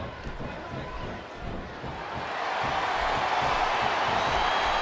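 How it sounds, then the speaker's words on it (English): A wrestling arena crowd in the WWE 2K24 video game roars steadily, the broad cheering swelling louder partway through, with commentary voices underneath. "Listen to the crowd, JR. I think they've got something to say to these superstars."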